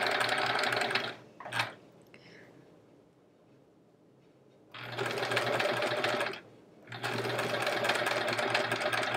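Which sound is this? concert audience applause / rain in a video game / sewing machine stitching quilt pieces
sewing machine stitching quilt pieces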